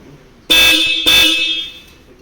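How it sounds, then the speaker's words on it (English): Two loud, bright honks from an electronic car horn, the second following about half a second after the first, each ringing briefly before fading. "all electronic horn"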